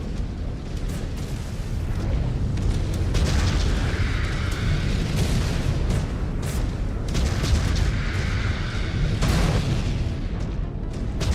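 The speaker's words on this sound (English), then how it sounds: "Incoming missile." Missile explosions in the MechWarrior 5 Clans video game, heavy booming blasts rolling one after another over a constant dense rumble of combat noise.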